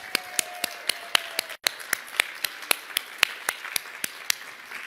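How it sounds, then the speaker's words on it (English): Sparse, evenly spaced claps ring out at a public gathering honoring care providers, roughly a dozen distinct sharp hand claps in a slow steady rhythm with one brief dropout, no one talking. "I want to give them a really big round of applause"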